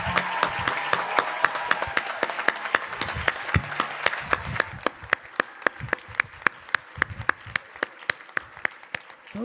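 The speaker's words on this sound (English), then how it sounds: "One more round of applause for the class of 2021" Applause for a graduating class at a 2021 high school commencement: a dense burst of crowd clapping that thins out into sparse, distinct individual claps near the end, with a few faint voices underneath.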